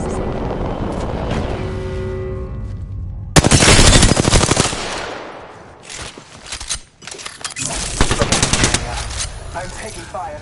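Rapid automatic gunfire in Apex Legends bursts in loud and close, a dense rattling volley followed by more broken bursts and shots, layered over in-game ambience and effects.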